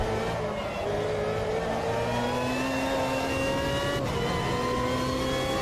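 Race car engine under hard driving through medium-speed corners, pushed beyond the grip limit; a loud continuous mid-pitched engine drone with rising and falling revs and a brief dip near the end, no talk.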